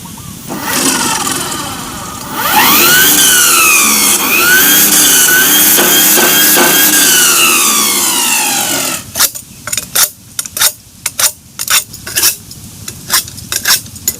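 A battery-powered 36V lithium lawn mower motor revs up to a steady high whine, holds for several seconds, then cuts out into a string of short clicks and bursts as the switch is worked.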